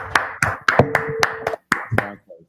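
Hands clap at a religious class meeting: a handful of sharp, close claps in an uneven rhythm with short pauses, and faint voices murmur between them.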